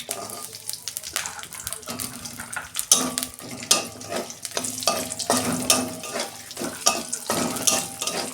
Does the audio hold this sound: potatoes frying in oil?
yes